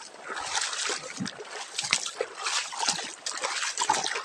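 River water rushes and splashes steadily nearby, a continuous burbling flow with irregular sloshes, fairly quiet, with no talking.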